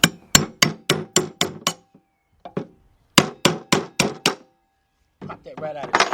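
Hammer driving a punch against the edge of a 2003 Jeep Liberty 3.7 timing cover seal, two quick bursts of six or seven sharp, close knocks with a few lighter taps between, and a voice starting at the end.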